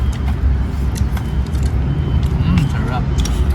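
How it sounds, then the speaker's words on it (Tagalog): Fast vehicles rush past on a nearby expressway, a continuous low traffic rumble with passing swells, heard outdoors beneath people talking. "Yung narinig yung mga dumadaan ng mabibilis na sasakyan."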